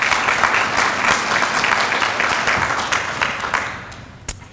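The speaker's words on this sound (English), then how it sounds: "can we give him a round of applause for that?" An audience at a Phi Theta Kappa honor society event applauds, dense sustained clapping near and loud that tapers off at the end with one last clap.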